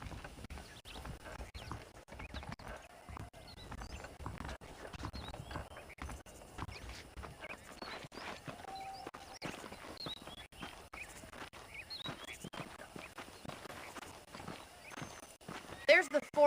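Horse hooves clip-clopping at a walk in the Western video game Red Dead Redemption, a steady, fairly faint rhythmic clatter that runs the whole stretch under a character's talking, with a brief louder burst at the end.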